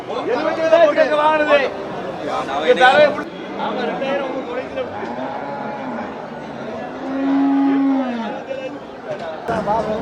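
Umbalachery cattle at Manapparai market, with a few drawn-out low moos sounding amid busy chatter and nearby talking voices.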